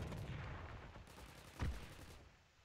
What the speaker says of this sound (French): Je vois pas d'où ça tire